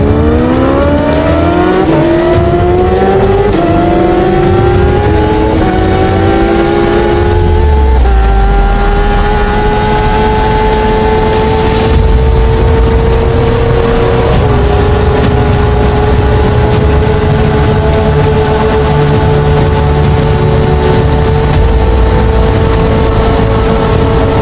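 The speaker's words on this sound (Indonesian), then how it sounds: "mengetes kecepatan fullnya itu H2R sampai 400 km per jam" A Kawasaki H2R motorcycle makes a top-speed run toward 400 km/h on a bridge. Its engine screams loudly and continuously, rising in pitch through rapid gear changes and then holding a high, sustained wail.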